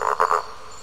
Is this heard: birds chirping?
no